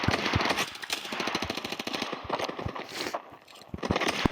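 Rapid automatic gunfire in the mobile shooter Standoff 2, dense bursts of sharp shots rattling in quick succession with brief pauses, loud and close.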